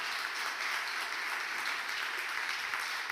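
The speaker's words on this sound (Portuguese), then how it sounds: "Dê um aplauso bem forte para Jesus." A church congregation applauds with steady, enthusiastic clapping, a dense wash of many hands continuing evenly throughout without pause.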